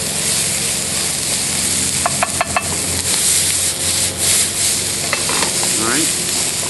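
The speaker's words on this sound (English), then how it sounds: "Now that everything's browning nicely in there, I'm going to add my corn." Corn stirred into a pan of browning ingredients for corn maque choux, with a constant loud sizzle, a spoon rubbing and scraping the pan, and a few sharp clinks partway through; no talking.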